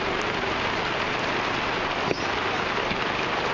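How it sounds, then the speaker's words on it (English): Rain falls in a steady, dense hiss, close and even throughout, with a single sharp tap partway through. "A rain event."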